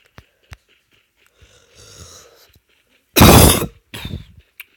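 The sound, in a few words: coughing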